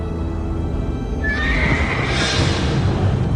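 A horse lets out a loud, close, rising neigh over a background of hoofbeats, all in a dramatized scene of Spanish conquistadors on horseback.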